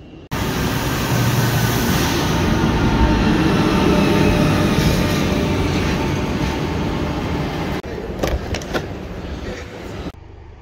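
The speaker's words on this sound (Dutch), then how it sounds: "Daar zit ik dan opgehokt in de meest comfortabele trein die Nederland rijk is." Inside a passenger train bound for Münster and Hamm, a loud steady rolling rumble of the carriage fills the cabin, easing slightly near the end with a few sharp clicks.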